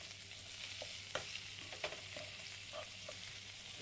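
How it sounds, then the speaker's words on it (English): Hot dog sausages sizzle in a frying pan with a quiet, steady hiss and occasional small pops and spits, heard alone without talk. "We put them in the pan. You can hear that sizzling away."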